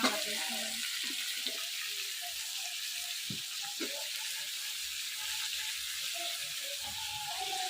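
Cauliflower pieces sizzle and fry in hot oil for a Bengali katla fish-head chorchori, a constant bright hiss with occasional stirring clatter while a voice speaks faintly underneath.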